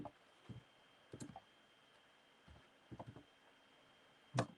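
Scattered keystrokes on a computer keyboard while a line is typed in a terminal, arriving in short clustered bursts with quiet gaps between them and closing on one sharper, louder key press.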